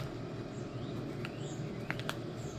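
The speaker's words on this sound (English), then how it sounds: "I hear the birds." Birds chirp outdoors in a few faint, brief calls over a steady background hiss, somewhat distant, with no talking.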